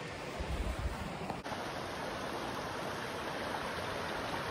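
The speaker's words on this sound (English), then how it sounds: "Love that sound of the water." Steady rushing water of a stream beside a campsite on Dartmoor, a broad continuous wash heard close and fairly loud throughout, with no talk.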